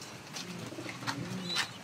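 Racing pigeons kept by a fancier cooing softly in a few short, murmuring calls against a quiet background, with no one speaking.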